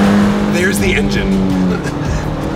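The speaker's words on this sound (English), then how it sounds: "there's the engine." A BMW E30 M3 with a punched-out M10-based four-cylinder engine drives at speed, its loud steady engine note running throughout alongside tire noise.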